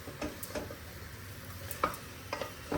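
Dalia and lentils are stir-fried in a pan, making a soft, close sizzle punctuated by repeated light scrapes and clicks of the spatula at an uneven rhythm.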